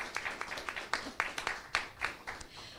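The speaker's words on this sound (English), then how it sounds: "one more round of applause for Neal Thompson, Wajahat Ali." An audience at a book talk claps in a scattered, moderate round of applause, with irregular individual claps.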